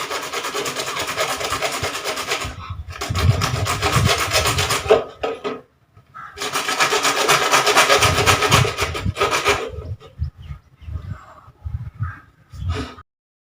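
A pipe being sawn in two by hand at a marked spot while building a studio light: long rasping back-and-forth strokes, loud and close, in two bursts separated by a brief pause, then trailing off into shorter scrapes.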